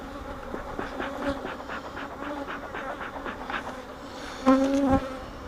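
Honey bees buzz around an open hive. Many individual buzzes rise and pass close by in a busy drone, and one loud bee sweeps past near the end. No one talks.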